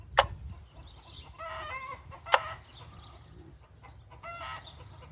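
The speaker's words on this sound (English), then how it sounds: "chickens are starting to sing their egg song" Chickens clucking in a rising, repetitive egg-song pattern nearby, with a couple of sharp knocks and low background hum.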